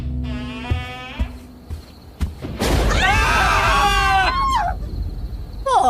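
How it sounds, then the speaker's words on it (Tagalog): A loud, shrill, hair-raising scream in the middle of the night rises and wavers for about two seconds. Other high squeals and cries come before it. "Pumunit ang tili naming makapanindig balahibo sa kalagitnaan ng gabi."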